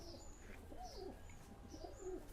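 Soft, rounded coos from pigeons, including yellow-eyed Rajgola, Golden and Teddy birds kept for sale, repeat in short phrases over a quiet background with a few faint chirps.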